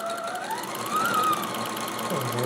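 A sewing machine runs steadily, stitching a 3/8-inch seam on a Hawaiian aloha shirt made from the Simplicity 3852 pattern, with a continuous close-up mechanical whir and no voices.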